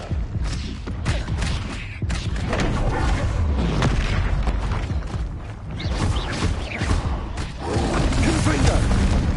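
A blasting spell bursts in Hogwarts Legacy on PS5, heard as heavy booms and crashing thuds within a dense, loud bed of game noise, with some talking mixed in.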